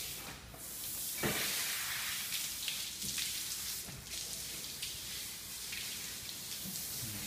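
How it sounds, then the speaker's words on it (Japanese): Running water washing a tuna during filleting, a steady close splashing hiss with scattered drips and a few louder gushes. "水で洗う。"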